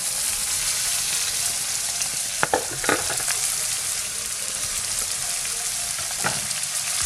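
Couscous added to a pan of cooked vegetables, a constant frying sizzle with a few scraping stirs and clinks.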